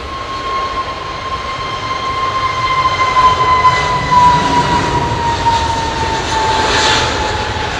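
A narrow-body Airbus jet at London Heathrow airport produces a loud, steady engine roar with a sustained high whine running across it, building slightly and holding without any speech.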